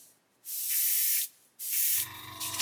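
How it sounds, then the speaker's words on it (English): A Gaahleri Swallowtail SD airbrush sprays paint in two sustained hissing bursts separated by a short pause, close and loud, with a quieter mechanical hum from the AF720 spray booth toward the end. "when you spray you'll get a wider pattern the other way"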